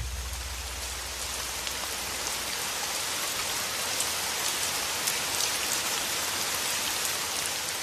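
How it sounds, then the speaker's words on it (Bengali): Heavy rain pours down steadily in a dense, even hiss, loud and close, with a faint low rumble at the start and no voices. "জোরে বৃষ্টি হতে লেগেছিল।"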